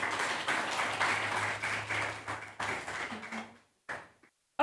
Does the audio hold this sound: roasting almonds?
no